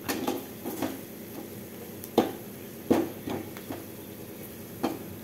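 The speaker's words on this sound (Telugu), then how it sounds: "ఒక 2 టేబుల్ స్పూన్స్ కారం, ఒక హాఫ్ స్పూన్ ధనియాల పొడి వేసి ఈ కారాలన్నీ మాడిపోకుండా కొంచెం అలా వేయించుకోవాలి" Chili powder and coriander powder frying in a pan for a mushroom gravy, heard as soft intermittent clinks and scraping of a spoon against the pan over a low steady background.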